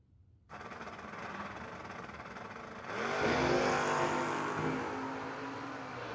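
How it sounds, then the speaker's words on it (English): A Pontiac Firebird drag car roars down the strip at a no-box drag racing event, a distant engine drone that swells sharply into a louder, rising pass before holding and slowly fading. "And Bercudo in the Firebird just keeps trucking."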